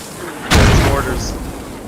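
Mortar fire in the military shooter game Squad: a single loud, sharp blast with a booming low-end tail, heard near and alone.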